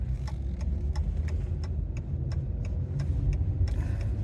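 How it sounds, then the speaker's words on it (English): A car drives along back streets past a parked police car, its engine rumble steady and close, with a regular ticking clicking over it throughout. "Let's drive past the police car."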